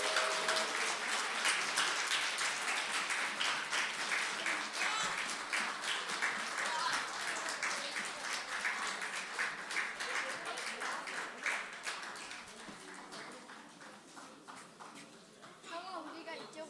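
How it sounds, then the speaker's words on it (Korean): Audience applause fills a Sunday worship service as a special item is introduced before a church camp, dense and steady clapping from a congregation that gradually thins toward the end. "네, 우리 박수를 격려하겠습니다."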